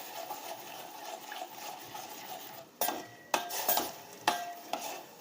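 Jaggery mixture being stirred in a pot to dissolve it, a steady soft scraping and swishing with several louder clinks of the spoon against the vessel toward the end, close and alone without talk.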